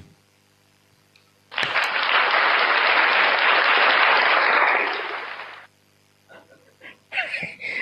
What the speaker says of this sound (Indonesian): Tepuk tangan buat Martin.